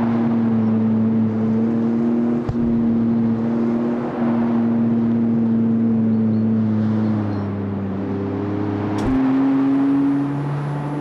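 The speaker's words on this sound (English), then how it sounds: "that turbo sounds so nice" A turbocharged car engine in the racing game CarX Street holds a steady, loud droning tone, with a brief dip and a sharper rise in pitch near the end.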